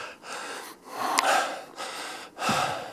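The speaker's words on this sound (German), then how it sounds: "Für das Schnaufen kann ich nichts. Das ist der Berg, den ich jetzt seit einer halben Stunde aufwärts gehe." Heavy, close breathing from someone hiking steeply uphill on a mountain trail in South Tyrol's Antholz valley, with several loud gasping breaths and snorts in an uneven rhythm.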